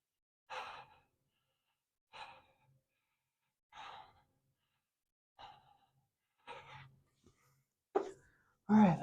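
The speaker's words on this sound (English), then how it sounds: "I'm just breathing and holding." Heavy, forceful breaths during a held exercise position in a barbell workout, six separate exhales spaced about every one and a half seconds, close to the microphone, the last ones louder and rougher.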